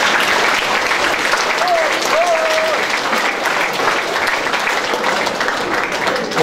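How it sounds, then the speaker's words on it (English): A school junior prize-giving audience claps in sustained, loud applause for a prize winner, a thick even wash of hands that continues for several seconds with a faint voice briefly rising above it. "A round of applause, please, for Sean."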